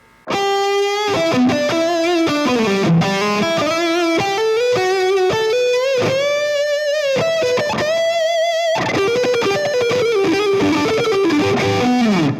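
Bluesy, heavily distorted electric guitar solo, sustained bent notes and fast melodic runs played loud and upfront for the whole stretch.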